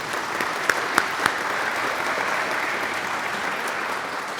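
An audience at a faculty awards ceremony gives a steady burst of applause at even loudness throughout, with a few sharper claps standing out near the start.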